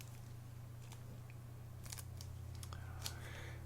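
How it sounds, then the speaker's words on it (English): Scissors snip pieces of material to length, a few short, soft, crisp cuts scattered over a quiet background with a steady low electrical hum, no voices. "with my pair of scissors, I can then cut the right length for 4 pieces"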